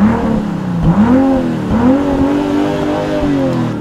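BMW M340i xDrive engine revved while parked to around 6500-7000 rpm in Sport Plus mode, loud close revving that climbs and drops in several repeated sweeps with no talk over it.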